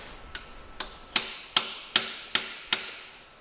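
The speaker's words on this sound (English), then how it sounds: "hammering them up and down as is tradition" A punch is hammered against stuck valves on a 1929 Dodge flathead engine: seven sharp metallic strikes at a steady rhythm, the first two light and the rest louder, close up with no talking.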